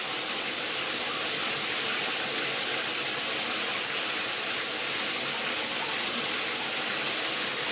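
Water pouring steadily from a giant rainfall shower head with color-changing temperature lights, a constant, loud, broad hiss of falling spray with no pauses.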